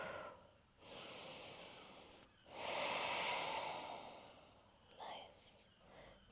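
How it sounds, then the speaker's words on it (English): Slow, deep breaths drawn in and let out through the nose while holding a yoga pose, several long airy inhales and exhales close to the microphone, with quiet pauses between them. "But just holding and breathing here."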